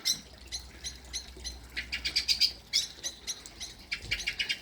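Blackbird calling somewhere above a garden koi pond, a run of bright chirps and short squawky notes repeating through the moment, moderately close and clear over a faint low hum.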